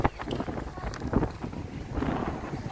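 Outdoor wind gusts buffet the microphone in a low, uneven rumble across the street scene, loud and close throughout the short stretch.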